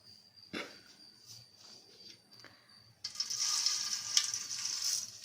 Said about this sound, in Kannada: ಎಣ್ಣೆ ಹಾಕಿ ಸಾಸಿವೆ ಹಾಕ್ಕೊಂಡಿದ್ದೀನಿ